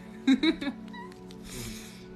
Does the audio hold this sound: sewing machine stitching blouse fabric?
no